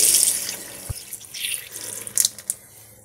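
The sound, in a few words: hot water tap opened to release boiler pressure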